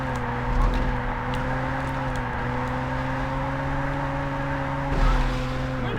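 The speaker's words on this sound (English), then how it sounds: "I hear cars behind me." Video game racing car engines drone steadily with a constant whirring hum, like cars racing close behind, with a couple of brief louder rushes.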